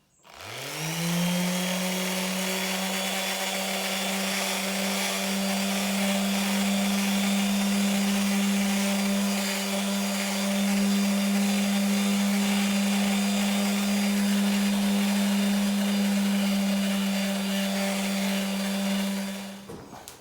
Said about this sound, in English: the last part then is a polish with a lamb's wool attachment on the sander